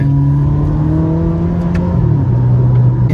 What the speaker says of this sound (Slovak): teraz v tom rejsi to auto aj znie inak. Jo. Že je hlasnejšie, akože ten motor